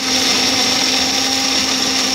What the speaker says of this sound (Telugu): ఇదంతా మిక్సీలో వేసుకోవాలండి. మిక్సీలో వేసుకుందాం